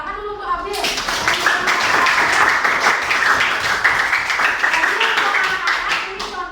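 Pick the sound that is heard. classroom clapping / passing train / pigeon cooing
classroom clapping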